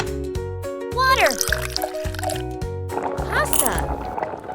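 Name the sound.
pouring water into a pan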